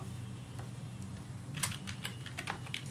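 Typing on a computer keyboard while entering a project name for a C# console app, a run of quick, close keystrokes over a low steady hum, busiest in the second half.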